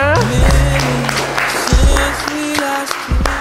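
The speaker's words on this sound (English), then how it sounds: "Clap it up, man." Light audience clapping on a dating game show set in Miami, mixed with loud chatter, laughter and occasional thumps, the applause staying modest beneath the voices.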